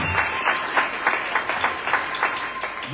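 Church congregation applauding to acclaim Jesus at a prophetic deliverance service, loud, steady, rhythmic clapping from many hands filling the room throughout.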